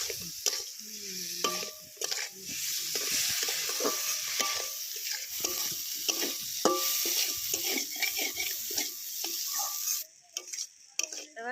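Shrimp frying in a hot pan with turmeric and salt, a steady close sizzle with scraping stirring strokes throughout, and a few clinks of the utensil near the end, no voices.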